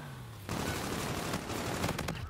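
Rapid gunfire in Call of Duty: Infinite Warfare, a loud dense volley of shots that starts abruptly and continues for about two seconds, with sharper cracks near the end.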